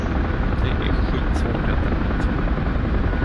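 Helicopter rotor and turbine noise in the DCS flight simulator during a landing, a loud, steady, dense roar that fills the whole clip without a break.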